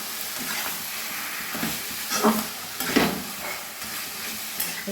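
Taro leaves cooking in a pan with hilsa fish head and spices, a steady close sizzle with soft stirring scrapes and brief hissy bursts as the greens are turned.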